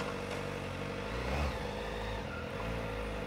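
A Kawasaki ZX-4RR four-cylinder motorcycle engine hums and revs steadily on a first ride, a fairly quiet, continuous drone with a brief swell partway through.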